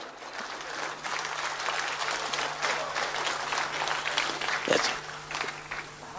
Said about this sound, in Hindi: जिनको ज्यादा अच्छा लगा करे वो हाथ उठा के तालियां बजा सकते